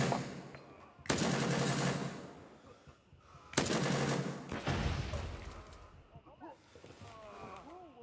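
A grenade goes off in Gray Zone Warfare, two loud, booming blasts with long rumbling tails, followed by quieter clatter as someone talks over the end.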